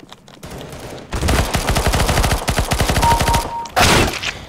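Sustained automatic gunfire in Counter-Strike: GO, a loud fast burst running for several seconds after a few faint pops, then a second heavy blast near the end, with no talk.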